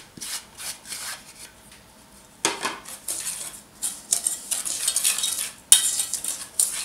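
A spoon scrapes and rubs through a dry bath bomb mixture with lavender and grated lemon zest in a bowl, giving intermittent gritty strokes with sharper knocks against the bowl, close and fairly quiet.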